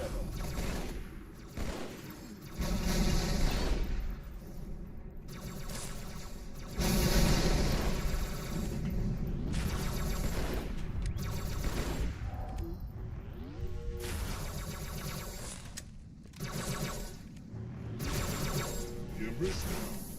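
Gunfire from the video game Halo 2 on Legendary difficulty, a dense stream of shots and crashes running the whole time, with several players talking over it.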